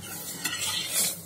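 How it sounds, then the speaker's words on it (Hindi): Dal with two pinches of hing being stirred in a pan over a flame, a soft continuous scraping swish with faint sizzling, close and with no talk. "अच्छी तरह से आपस में मिक्स करके आग सलग देंगे और फिर बंद कर देंगे।"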